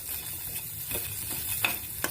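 Onion paste, coconut paste and other ingredients fry in a pan for bone soup, giving a steady hiss of sizzling oil with occasional sharp scrapes and clinks from stirring.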